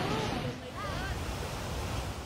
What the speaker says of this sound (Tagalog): Umagos sa mabatong ilog ang kulay abong tubig na yan mula sa padudusan po sa Canlaon City sa Negros